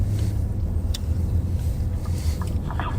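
A police vehicle pulls up with a low, steady engine rumble that stays close and constant throughout, with a few faint clicks and rattles above it and no talk.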